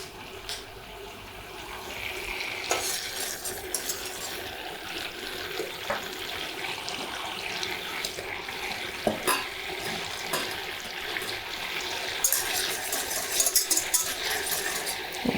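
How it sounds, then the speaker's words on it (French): A vanilla praliné mixture being stirred in a saucepan, a steady bubbling simmer with soft scraping and occasional clinks of the utensil against the pan, close and continuous without voices. "on va remuer pour pas que ça accroche dans le fond de notre casserole"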